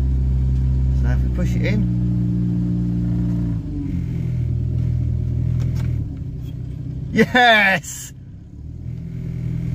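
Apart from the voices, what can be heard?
Renault 10 car engine running on fast idle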